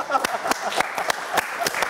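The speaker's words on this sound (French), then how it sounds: "On peut l'applaudir." A studio audience at a French football talk show about Lyon claps in a quick, even rhythm, sharp individual claps landing about four times a second while voices talk over them.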